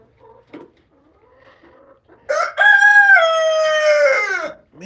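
A speckled rooster crows once, close and loud, a long drawn-out call that rises, holds and tails off, after a few faint clucks and small noises in an otherwise quiet setting.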